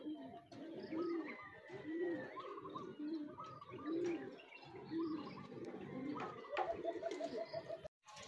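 Racing pigeons coo and flutter near a loft in Rosario, La Union, during a pooling race arrival, with repeated soft cooing calls and some wing noise close by over faint background activity.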